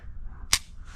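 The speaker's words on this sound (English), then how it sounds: "your subsequent shots are going to be short single action clicks" One sharp, short click of a DA/SA pistol trigger dry-fired in single action, close and crisp against a quiet background.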